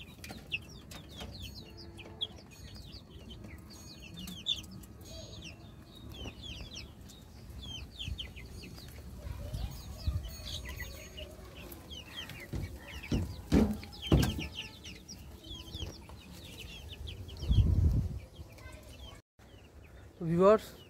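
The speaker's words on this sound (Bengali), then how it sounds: "এই যে এই 2টো মোরগ, এই যে এখানে যে 3টা আছে 3টাই মোরগ ফাউমির।" Several Fayoumi roosters and hens cluck and call in a backyard flock, with scattered bird chirps throughout and a few louder close squawks and rustles near the end, under occasional low handling noise.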